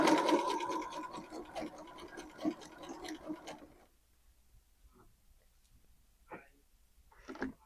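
Sewing machine with a twin needle stitching legging fabric, a steady close whirring run that stops partway, followed by faint handling sounds and light clicks.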